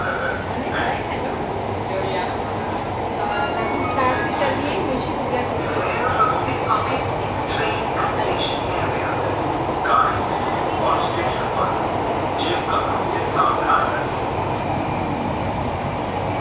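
A Lucknow Metro train rolls along with a steady low rumble and faint rattles, with murmuring voices in the background.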